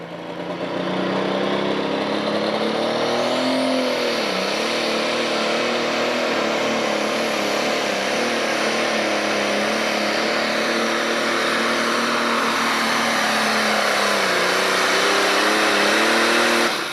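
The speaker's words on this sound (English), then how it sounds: "Rob Lemke from Hellenville, 4010, John Deere." A John Deere 4010 tractor engine roars at full power during a tractor pull, a long, steady stretch with pitch dipping and rising as it labors under load.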